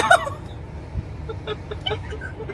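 A brief chicken call, a cluck or honk, sounds near the start, followed by a few softer clucks over low background rumble.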